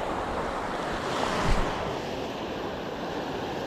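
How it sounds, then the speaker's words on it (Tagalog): Strong ocean surf near a small fishing boat at sea: a dense, steady wash of wave and wind noise, with a brief swell of louder water around the middle. "Huwag ka masyadong lumapit. Malakas yung alon."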